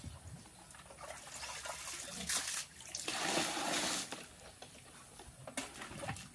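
Water trickles and splashes faintly while plants are watered on a farm, with uneven dribbling bursts and a few louder gushes against quiet outdoor background.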